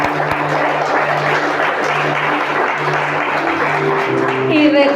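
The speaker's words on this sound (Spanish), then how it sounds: "Démosle un aplauso al Padre," A church congregation applauds at the close of a Spanish-language service, broad steady clapping filling the room for the whole span, with a sustained musical or vocal tone running underneath.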